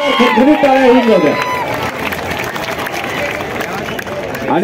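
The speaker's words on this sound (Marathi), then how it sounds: "टाळ्या होऊन जात्या." Audience applause and crowd noise at a live talk event follow a brief loud shout from a speaker, then continue as a steady wash of clapping for several seconds.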